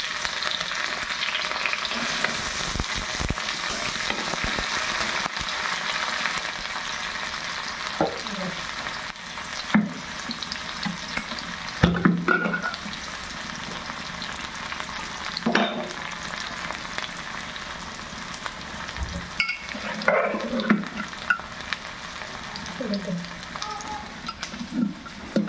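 Onions sizzle loudly in hot oil with bay leaf and dried chilli, a continuous close frying hiss with intermittent stirring scrapes and clatters over about twenty-five seconds, no talking.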